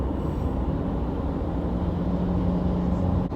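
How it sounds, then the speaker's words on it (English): Loud truck pulling up alongside, a heavy, continuous low engine rumble and road roar close by, steady and loud throughout. "this loud ass truck is gonna come up next to me"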